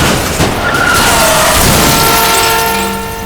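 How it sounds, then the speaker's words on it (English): A dramatised crash of Princess Diana's car into a tunnel's thirteenth pillar brings a loud tyre skid and a smashing, shattering impact, followed by a fading ringing tail. "The car crashes."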